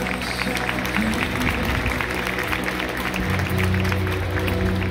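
Stadium crowd applauding at a Hiroshima Carp baseball game at Zoom-Zoom Stadium Hiroshima, a dense, continuous roar of clapping and crowd noise with low rumbling underneath.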